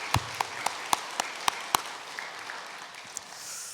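A church congregation gives welcoming applause. It sounds as a handful of separate, fairly faint claps spaced out over a few seconds, trailing off into quiet room murmur.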